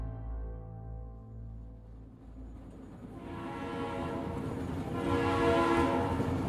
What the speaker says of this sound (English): An express train out of Omaha chugs along a quiet stretch of the Rock Island Railroad's tracks near Adair, Iowa.